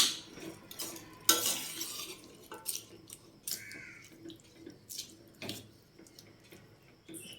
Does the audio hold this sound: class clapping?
no